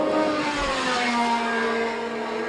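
Gilles Villeneuve's Ferrari Formula One car on its final lap of the 1979 South African Grand Prix, a sustained high engine whine with shifting pitch over a broad roar of track noise.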